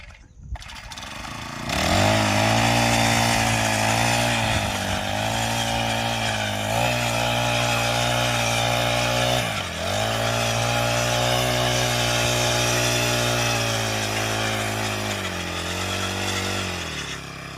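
A 2.5 HP petrol-engine weeder tills a farm field, its loud, steady engine drone starting after a short pause and running continuously with brief dips in pitch and load, close by and with no talking.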